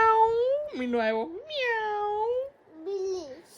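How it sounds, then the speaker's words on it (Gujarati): A cat meowing near a house wall, four drawn-out, close meows in quick succession with short gaps between them. "બિલ્લી છે હે"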